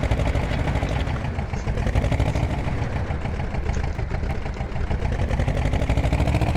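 An older tractor's engine in Farming Simulator 17 runs at a steady, loud idle, a continuous rumbling drone with an even chugging texture that holds without a break and has no talk over it.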